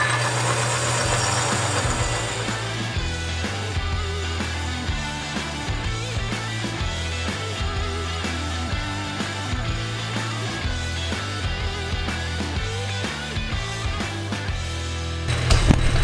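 A lathe turns a hardened socket with the tool set to depth, a steady close mechanical drone with a low hum and faint ticking throughout, ending in a brief louder clatter.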